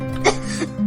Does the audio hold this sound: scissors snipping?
no